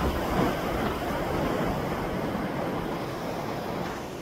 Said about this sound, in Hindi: सरस्वती नदी उद्गम स्थल है,